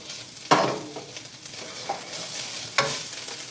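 Lemongrass, galangal, garlic and kaffir lime leaf sauté in a pan for a spicy pork sparerib soup, with a soft steady sizzle and a few sharp scraping stirs.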